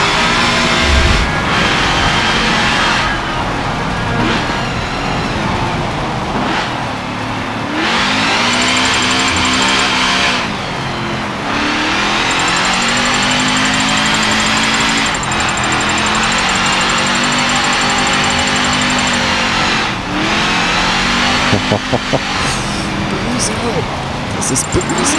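A car engine in Forza Motorsport 7 revs hard while drifting, its loud, close pitch climbing and falling again and again with short lifts between pulls.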